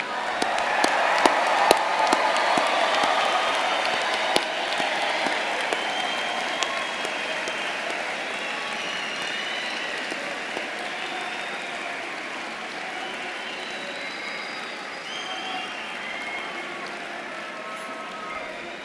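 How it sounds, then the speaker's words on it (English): A large audience at a university engineering winter commencement ceremony applauds new graduates, a dense sustained wash of clapping that starts loud and slowly fades over nearly twenty seconds in a big hall. "Let us give the new graduates a big round of applause."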